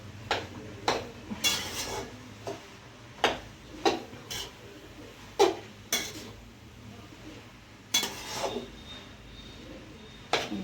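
Grated carrots roasting in a pan for carrot halwa, stirred with a spoon that scrapes and knocks against the metal in irregular, fairly close clinks and rubs, with no talk.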